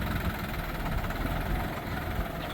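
Hired farm tractor running its engine during a test, a steady low rumbling drone with a rough knocking throb that stays constant and fairly close, with no talk over it.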